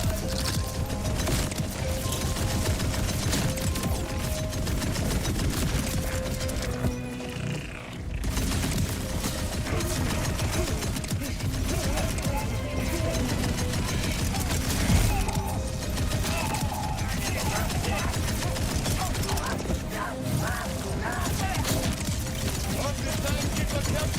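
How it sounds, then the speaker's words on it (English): Broken Wings SMG in Borderlands 4 firing at a boss, a dense, unbroken stream of rapid shots that runs nearly the whole time, blended with busy game effects and background noise. "Should try the Broken Wings SMG."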